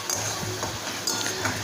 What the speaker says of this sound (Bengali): মশলাটা কিন্তু কষতে আরম্ভ করেছে আর মশলার থেকে তেল ছাড়তেও শুরু করেছে